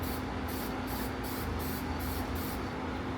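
Steady continuous spray-paint hiss, loud and close, as a quick coat is laid onto a part during a build assembly, with no talk.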